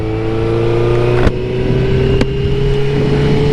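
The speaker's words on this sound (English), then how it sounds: "I just love how savage this fucking pulls, this bike" A motorbike engine pulls hard in a sustained loud drone with rising harmonics, as at high speed, with two brief sharp knocks or gusts along the way.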